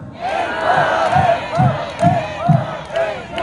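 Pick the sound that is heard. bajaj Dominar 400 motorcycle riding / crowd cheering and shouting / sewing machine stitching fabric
crowd cheering and shouting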